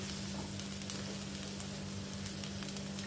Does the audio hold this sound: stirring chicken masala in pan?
yes